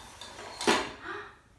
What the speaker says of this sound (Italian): mettere via la nostra scodella, il bicchiere e le posate